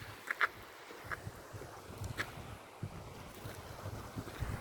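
Wind buffets a microphone at the seashore while waves wash in steadily, a rough, continuous roar with occasional gusty bumps and no voices.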